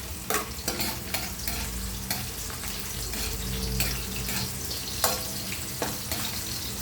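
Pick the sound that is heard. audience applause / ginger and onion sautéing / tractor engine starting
ginger and onion sautéing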